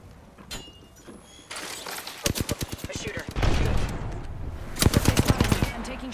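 Rapid bursts of automatic weapon fire in Apex Legends, with several rattling volleys of gunshots and a sharp blast mixed in, loud and close, partly under a voice speaking.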